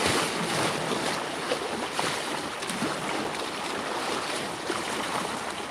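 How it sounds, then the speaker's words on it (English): Ocean waves wash steadily against a dock at dawn. The broad, rushing wash is continuous and moderately loud, with gentle swells and no voices. "Yeah, you gotta love the sound of those waves though."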